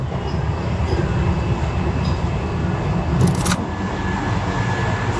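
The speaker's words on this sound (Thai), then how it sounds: "น่าจะวิ่งได้ไวสุดเลยนะวิ่งไวสุดของขบวนรถไฟอินเดียเลยนะ" An Indian passenger train rumbles along steadily with a loud low roar, a brief high metallic squeal rising midway before the running noise continues.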